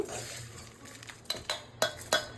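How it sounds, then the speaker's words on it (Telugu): Several quick light clatters of dry amla and coriander pieces tipped into a mixer jar, close by, in an uneven rhythm over faint background noise. "దీన్ని ఇప్పుడు మనం మిక్సీ జార్లో వేసుకొని పొడిగా చేసుకోవాలి"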